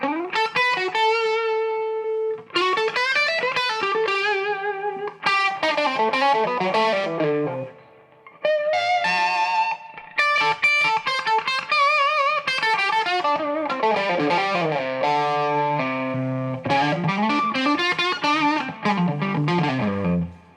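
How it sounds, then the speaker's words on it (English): Les Paul electric guitar fitted with Fishman Fluence classic humbuckers, middle pickup position with the tone control pulled out of phase, played as a loud, continuous run of distorted, effects-laden chords and riffs with brief gaps. "in the middle position, I can go up on this tone control and be out of phase"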